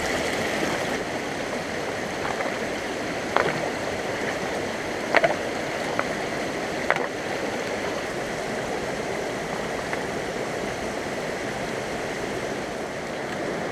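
Strong river flow rushing through a gully in the UK, a constant broadband wash of water that is close and steady, with a few faint knocks and clicks along the way and no voices.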